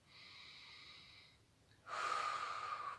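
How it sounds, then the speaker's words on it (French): A deep breath taken during a guided sophrology meditation: a soft, near inhale followed by a louder, breathy exhale, with no speech. "vous faites une respiration un peu plus profonde"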